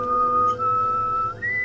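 A young woman whistles at night, one sustained clear tone that holds steady, breaks briefly, then steps up to a higher pitch, close and loud against quiet background.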